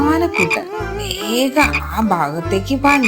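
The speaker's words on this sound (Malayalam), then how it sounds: "ദൂരെ തവളച്ചേട്ടന്റെ കരച്ചിൽ കേട്ടത്" Deep, rhythmic frog croaks pulse repeatedly beneath a narrator's storytelling voice, loud and close.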